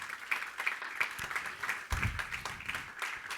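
A church congregation claps in a steady rhythm during a Spanish-language communion sermon, the claps faint and somewhat distant, with a brief low thump partway through and no clear speech.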